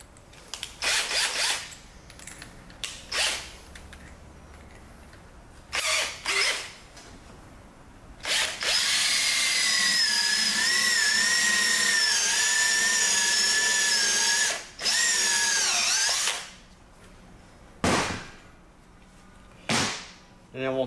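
A power drill bores a hole through a steel self-sharpening mower blade, giving a loud, sustained whining grind several seconds long between shorter start-stop bursts of drilling.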